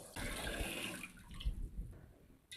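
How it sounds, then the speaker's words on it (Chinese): Tap water splashes and rinses over a new iron wok, starting with the underside, a steady broadband wash with small clanks and bursts, fairly close and moderately loud, no talking. "锅不烫手后拿走用水冲洗。 冲的时候先冲锅底，不要冲锅里面。"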